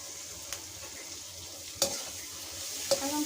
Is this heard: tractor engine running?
no